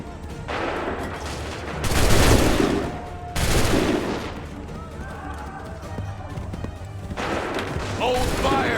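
Musket volleys from soldiers in Assassin's Creed III crack out in loud bursts, a big blast followed by another and rattling scattered fire, with shouted commands and battle noise underneath.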